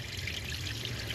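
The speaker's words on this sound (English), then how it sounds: "there's water going in and out of the heater core" Water flowing through a 2004 Subaru Impreza heater core during a reverse flush through its hoses, a soft, steady pouring trickle close by.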